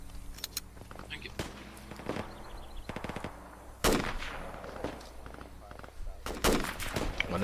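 Infantry gunfire in Project Reality, scattered sharp rifle and machine-gun cracks near and far over a low ambient rumble, with soldiers talking over the shots.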